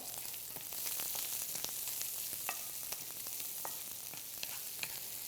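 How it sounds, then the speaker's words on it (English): Vegetables fry in a pot for an oyster pot pie, giving a steady, dense sizzle with irregular scraping clicks from stirring throughout, close and continuous, no voices. "we're going to stir up our vegetables"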